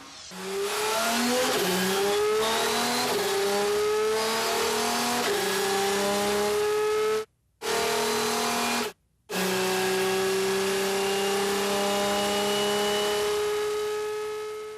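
Audi R10 TDI turbocharged diesel V12 race car at Le Mans 2006, its engine loud and close, repeatedly climbing through gears with rising revs, then two brief cutoffs before a long pull.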